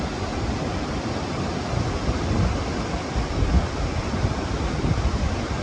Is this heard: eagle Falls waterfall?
yes